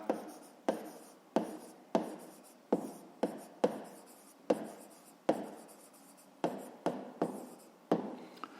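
Pen or pencil writing on paper during a math lesson, a close, quiet series of about a dozen short scratchy strokes with brief pauses between, with no talking.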